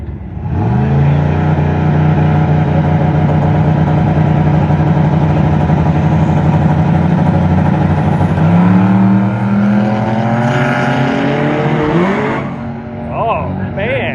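Race cars at a race week event, including a DSM, hold loud droning engine revs at the start line before one launches with a rising, shifting engine note; voices are heard over the engines.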